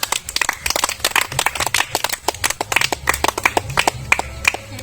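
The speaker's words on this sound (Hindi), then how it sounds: "आप लोग एक जोरदार ताली बजा दीजिए।" A small group claps for the winner of a chhole bhature eating challenge, with sharp, close hand claps in an uneven, lively rhythm that run on for several seconds.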